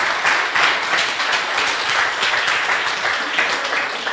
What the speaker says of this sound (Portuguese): Eu quero que vocês aplaudam ao Senhor,